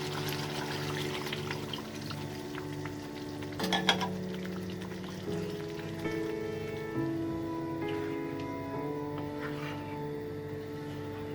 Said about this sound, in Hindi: तो अब हम इसमें पानी ऐड कर रहे हैं।